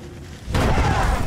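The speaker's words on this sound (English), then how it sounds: "That's a nice explosion." A single deep video-game explosion boom bursts in after a moment of low rumble and rolls on loudly to the end.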